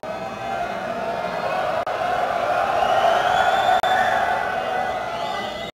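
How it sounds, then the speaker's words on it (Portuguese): A siren wails continuously, loud and near, its tone rising and falling slowly in a drawn-out sweep, sustained for several seconds over a constant background roar. "Não dá para competir com a sirene"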